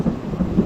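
Thunder rumbles during a lightning storm at a school cleanup event, a short low rolling boom with pulsing swells, loud and close with no talk.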